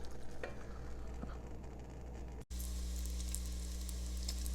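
Bacon fries in a pot, a steady close sizzle with faint scraping stirs, briefly cut off partway through before the sizzle resumes with a low steady hum underneath.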